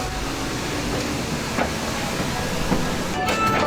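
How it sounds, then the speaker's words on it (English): Calico Mine Company ride train at Knott's, rumbling and hissing steadily with faint clacks on the track, a continuous mid-loud mechanical roar without talk. "we're getting on the Calico Mine Company train"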